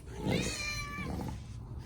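A single cat gives a clear, drawn-out meow close by, rising then falling over about a second, followed by a softer trailing note against a quiet indoor room.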